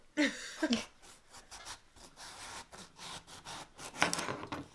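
A knife cuts the end off a pumpkin on a kitchen board. It makes a few quiet, close scraping and crunching strokes, with a couple of sharper bursts early on and again near the end.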